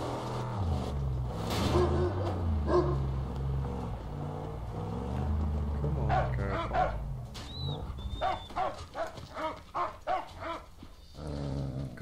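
A dog barking in the Mad Max video game, repeated rough barks and growls over engine rumble and game noise across the clip, fairly close and loud within the mix.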